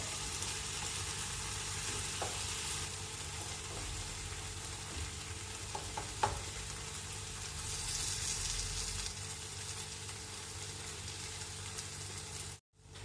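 Brinjal pieces fry in masala for a curd brinjal curry, with a steady close sizzle and occasional soft scrapes as they are turned in the pan, cutting off abruptly near the end.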